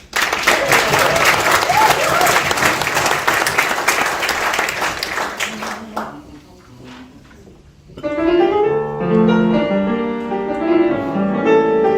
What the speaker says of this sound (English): can you give a huge cheer for our fantastic violinist, Miss Romy Gehrmans?